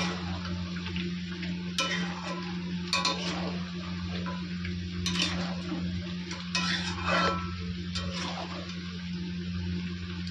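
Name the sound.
potatoes frying in oil in a pan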